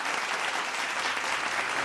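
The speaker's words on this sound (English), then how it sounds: "Can we give them a huge round of applause?" Audience applause at a pharma project management awards ceremony in Goa: a steady, dense wash of clapping from a sizeable crowd, sustained and even throughout with no voices over it.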